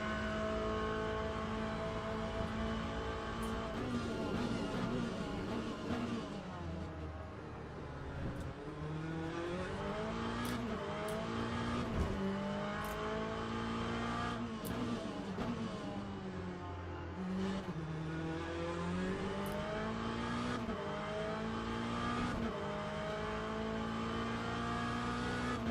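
Race car engine in the Le Mans Ultimate racing game roaring at full throttle on a slippery track, loud and continuous, with rising and falling revs through gear changes over about twenty-five seconds.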